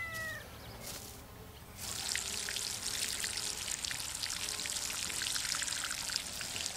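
Water pours in the video game Garten Simulator while plants are watered, a quiet hiss at first, then a louder steady splashing stream that runs unbroken to the end.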